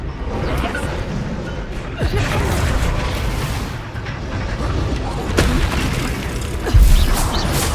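The Confringo fire blast spell explodes in Hogwarts Legacy amid loud, continuous battle noise with heavy booms and rumbling impacts, plus a sharp burst near the end.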